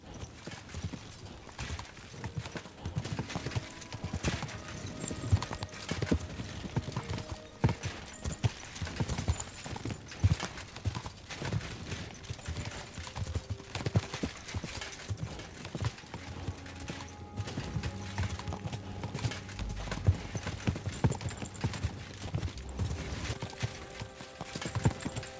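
Horse hooves clip-clop steadily on the ground in the video game Kingdom Come: Deliverance 2, a continuous close walking rhythm over game music and ambience, with no speech.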